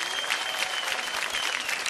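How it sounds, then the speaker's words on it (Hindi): A crowd applauds to welcome Bhojpuri stage performers Rinku Ghosh and Madan Mohan, steady, dense clapping held at an even level throughout, somewhat distant and with no voices on top. "जोरदार ताली के साथ स्वागत कर जाओ"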